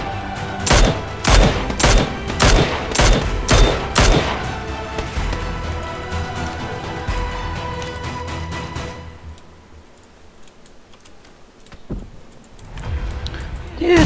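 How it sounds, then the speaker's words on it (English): A rapid string of gunshots in PlayerUnknown's Battlegrounds, loud and sharp for about four seconds, then a quieter stretch with one more distant shot and a voice talking over parts of it. "Getting shot by that guy behind the rock at 165."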